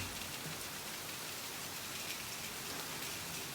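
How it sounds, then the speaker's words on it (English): Rain beginning to fall in Florida, a dense, continuous hiss of drops pattering steadily on surfaces nearby, even in loudness and with no voices. "The rain has officially begun."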